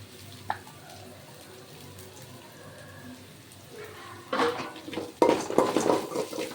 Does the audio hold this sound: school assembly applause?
no